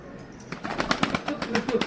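Pigeons at a large loft of about seventy birds flutter and shuffle nearby, with soft wing flaps and faint cooing over a low background rumble.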